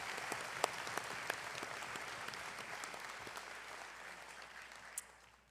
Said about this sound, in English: let us give the Sato class of 2026 a round of applause